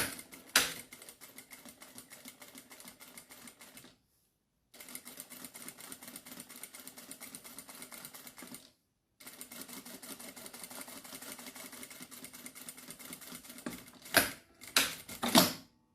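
Sewing machine stitching a pocket onto a wallet, running in long steady bursts of fast, even mechanical chatter broken by two short pauses, then a few quick stop-start runs at the end, up close with no voices.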